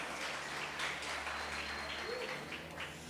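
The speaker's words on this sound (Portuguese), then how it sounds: "pode aplaudir Jesus, meu irmão" A church congregation applauds during a worship service, a soft wash of many hands clapping at a distance, steady and fairly faint for a few seconds.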